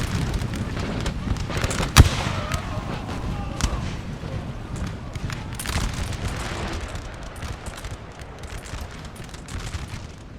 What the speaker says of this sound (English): They've taken relentless fire right now from the Austrians.